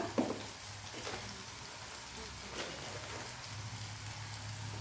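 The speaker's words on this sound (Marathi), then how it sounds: "आता हे मसाले पहिला तेलावर छान शिजवून घ्यायचे आहेत" Spices frying in hot oil for an Agri Koli–style shevla bhaji: a steady, soft crackling sizzle with a low hum, fairly quiet and continuous throughout, with no talking.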